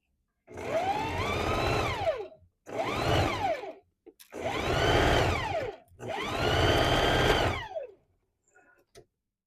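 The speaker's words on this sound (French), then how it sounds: "je vais venir faire une couture ici, sur les deux poignets" A sewing machine stitches the cuffs of a bomber jacket in four sustained runs of a few seconds each. The whirring motor pitch rises and falls with each run, and short pauses separate the runs.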